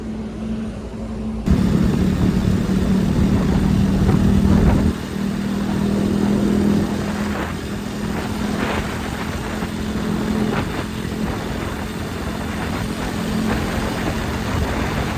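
A KTM Duke 250 (gen 3) motorcycle on the move during a long ride, its engine a steady, loud drone with constant wind rush and no speech.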